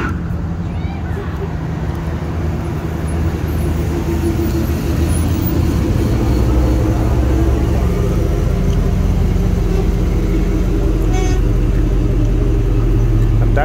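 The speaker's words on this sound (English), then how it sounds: "Just watching the cars come up and down the road." Steady road traffic near a water park in Wildwood, cars rolling up and down the street in a continuous close rumble with a brief passing swell, under people talking.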